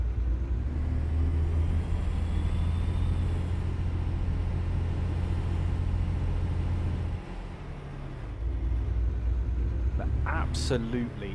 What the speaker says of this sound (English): Absolutely love the sound of these trucks.